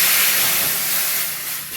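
Hot water poured into a pan at the bottom of an oven for baking bread, a loud, close, steady steam hiss that fades slightly toward the end, with no talk.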